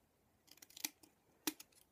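Scissors snip paper while trimming a recycled card pouch for a memorydex, a few crisp cuts close up in a quiet room, with a sharper snip standing out near the end.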